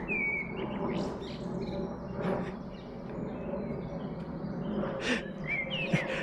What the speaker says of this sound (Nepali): कस्तो मजाको यो के चराहरूको आवाज कस्तो दामी आइरहेको